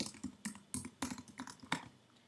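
Keystrokes on a computer keyboard while entering text into table cells: quick, irregular clicks, close and quiet, with no other sound.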